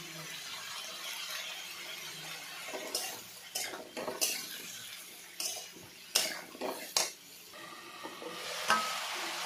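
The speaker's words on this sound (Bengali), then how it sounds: "পুরো ভাজা ভাজা করে নিব।" Potato, eggplant and drumstick pieces fry in a wok with salt and turmeric, giving a steady soft sizzle broken by repeated metallic scrapes and clinks of a spatula stirring against the pan.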